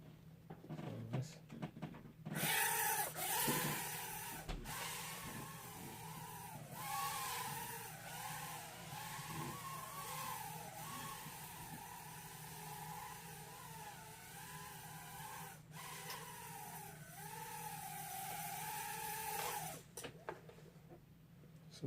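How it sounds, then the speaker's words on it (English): Steady high whine of a Tiny Whoop micro drone flying on 2-bladed props, its buzzing pitch rising and falling with throttle changes for about twenty seconds, close by and fairly loud. "A little more noisy though, and that's always the case with 2-bladed props."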